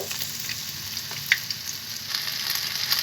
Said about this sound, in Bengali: দেখুন বন্ধুরা, এক এক করে আমি কাবাবগুলোকে এইভাবে ভেজে নিব।